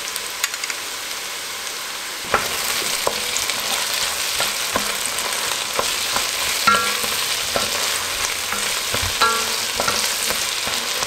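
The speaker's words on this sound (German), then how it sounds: "Jetzt brate ich auch noch ein bisschen von meinem Tomaten-Paprikamark mit an." Tomato-pepper paste sizzles steadily in a pan with vegetables, a continuous broadband hiss broken by occasional spatula stirs and scrapes, close and fairly loud with no talking.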